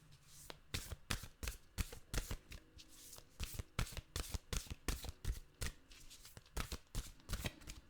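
Oracle cards are shuffled by hand in quick, crisp riffling bursts with a steady rhythm, close and fairly quiet.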